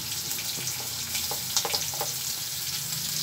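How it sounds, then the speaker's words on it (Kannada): Chopped onion frying in hot oil in a pan, cooked with green chilies for a masala dosa red chutney: a steady, fairly quiet sizzle and crackle with a few brighter pops, and no voices. "ನೆಕ್ಸ್ಟ್ ಇವಾಗ ಈರುಳ್ಳಿ ಹಾಕೋತಾ ಇದ್ದೀನಿ."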